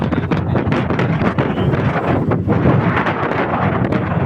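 Strong wind at Mega Dike in Malabon buffets the microphone in a loud, continuous roaring rumble with gusty surges throughout.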